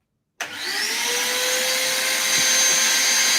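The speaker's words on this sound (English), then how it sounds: "I'm going to turn the vacuum cleaner on again" A vacuum cleaner switches on abruptly after a short silence and keeps running at a loud, steady roar with a high whine, close by and alone.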